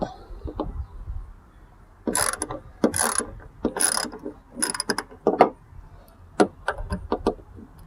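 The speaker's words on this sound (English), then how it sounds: "I'm about to unscrew the first bolt." Ratcheting on a bolt while removing the backup camera from a 2011 to 2015 Ford Explorer: a series of close, dry clicking bursts in irregular spurts with short pauses, no talking.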